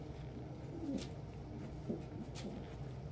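A pet bird coos softly indoors in a few low, brief calls over a quiet room hum.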